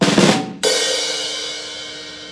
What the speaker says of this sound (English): you'll have a rim shot that sounds like this.